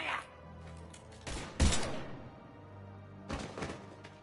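Gunfire in the video game Mass Effect 3: a couple of loud, sharp bursts of shots separated by quieter game ambience, with no talk.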